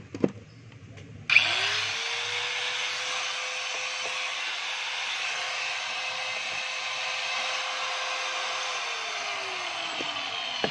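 A DeWalt DW810 angle grinder starts up after a short quiet stretch and runs steadily at full speed for about nine seconds, loud and close with a high whine, then begins spinning down near the end, freshly fitted with a replaced carbon baffle.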